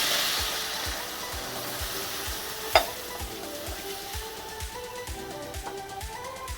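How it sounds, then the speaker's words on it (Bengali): Water poured into a pan of fried spice mix for a vegetarian potato curry, a steady hissing sizzle with a rhythmic low thumping and one sharp clink partway through, close and without talk. "এই জল দিয়ে দিচ্ছি"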